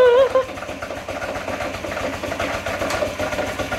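A Honda Ruckus scooter engine idles roughly and unevenly, a steady low chugging pulse close by that keeps going under faint background noise.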